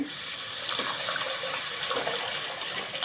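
Boiled spinach tipped into a pan along with its cooking water makes a continuous splashing, gushing pour, close and steady throughout, with no voices.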